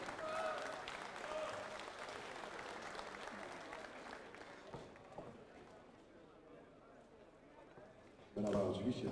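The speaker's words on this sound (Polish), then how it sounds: "Brawa oczywiście dla obydwu zawodników" Audience applause in a boxing hall after a final bout, steady crowd clapping heard at moderate distance, thinning out over time, with a voice breaking in loudly near the end.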